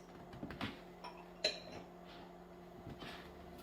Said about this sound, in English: when you're chopping them, you wanna make sure that you're chopping them all in the same size